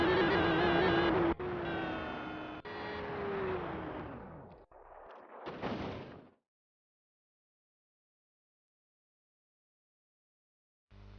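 A BMW M3 GTR engine in the Rigs of Rods driving game, a loud close revving drone that climbs through several gear-shift steps and then cuts abruptly, followed by several seconds of silence.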